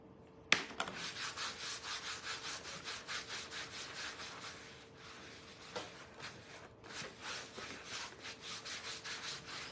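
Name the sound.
rubbing wax over painted pumpkin with applicator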